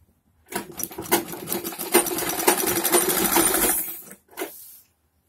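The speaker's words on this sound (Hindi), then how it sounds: "ऑल पिन हटाते जाएंगे, सिलते जाएंगे।" A sewing machine stitches a chudidar pajama in quick rattling bursts, a steady mechanical run of needle strokes for a few seconds, then a short final burst, close and alone.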